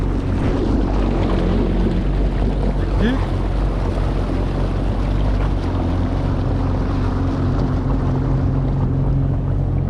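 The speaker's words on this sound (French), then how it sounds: "Bon, on va y aller au ralenti moteur." A jet ski engine idles at low speed through a narrow channel on Lac de Dienville, a freshwater lake, giving a steady low drone throughout with wind buffeting the microphone.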